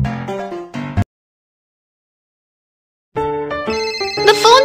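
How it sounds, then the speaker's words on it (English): A cartoon video game telephone rings in bright, musical synthesized bursts, with a short ring at the start and a longer, busier ringing phrase after a pause of silence. "The phone's ringing."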